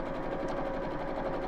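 A sewing machine runs steadily while top stitching around the bottom three sides of a fabric piece at a lengthened 3.5 stitch, a close, continuous, even motor whir with rapid needle rhythm and no talking.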